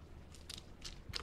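Flavored chips crunched over a cup of spicy seafood cup noodles, a few sharp, close crackling crunches spaced across a second, with no talking.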